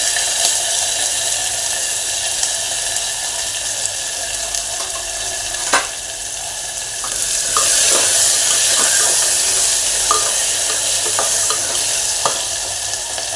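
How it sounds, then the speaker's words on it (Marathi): Chopped onion and tomato frying in a hot cumin tempering, a steady loud sizzle with occasional stirring clinks and scrapes of the spoon against the pan, no voices. "बारीक चिरलेला कांदा घालून घेते, त्याचबरोबर बारीक चिरलेला टोमॅटो घालून घेते"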